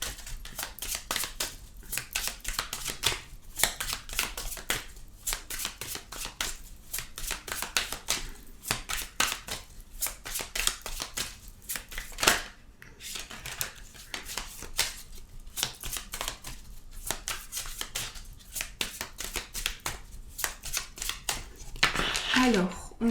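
Tarot de Marseille cards are shuffled by hand in quick repeated riffles and slaps, a dense crisp rhythm running throughout at close range, with a speaking voice over it.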